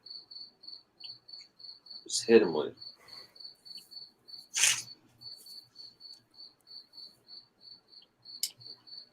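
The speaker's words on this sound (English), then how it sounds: "Crickets make us sound boring as fuck." A cricket chirps steadily in short, evenly spaced pulses close by, continuing throughout while someone speaks briefly over it and a few sharp knocks break in.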